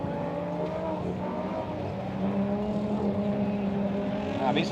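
Several four-wheel-drive folk-race rally cars charge around the Vecpils autocross track, engines roaring and revving steadily with a harmonic drone that swells louder toward the end, tyres scrabbling and a sharp squeal at the close.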